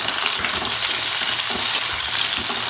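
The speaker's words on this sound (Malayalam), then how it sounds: "അരിഞ്ഞ് വെച്ചിരിക്കുന്ന മാങ്ങ ഗ്യാസ് ലോ ഫ്ലെയിമിൽ വേണം വെക്കാൻ കേട്ടോ" Chopped mango sautéing in a pan over a low gas flame for a traditional ellu manga, a dense continuous sizzle with faint crackles, close and steady, no voices.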